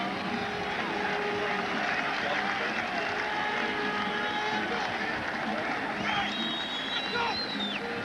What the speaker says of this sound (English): Fans reacting now with a round of applause for Derek Beattie